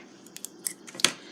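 Scissors snip through a length of thread used to add texture to a card made on dark cardstock, giving several short, crisp snips close by, the last one loudest, with no talking.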